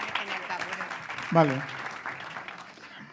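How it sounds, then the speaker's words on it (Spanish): An audience applauds a panel speaker at a congress debate session, with steady, moderately quiet clapping running throughout while a voice speaks briefly over it. "Otro aplauso para ella"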